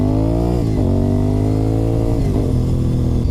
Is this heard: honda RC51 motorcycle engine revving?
yes